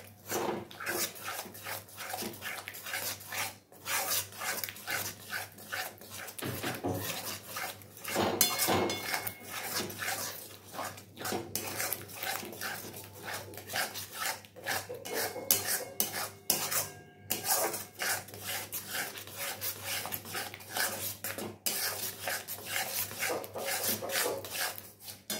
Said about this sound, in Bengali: চলো ধিমে আঁচে আমি এটা কষিয়ে নেবো। কন্টিনিউ কিন্তু নাড়িয়ে যেতে হবে